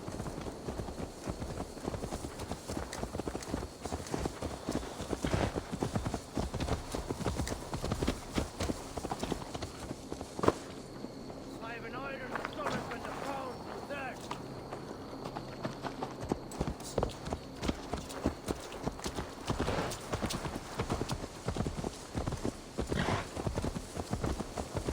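Horse hooves clip-clopping at a steady walk in the Assassin's Creed Valhalla video game, a continuous run of fairly quiet, even footfalls with faint background ambience.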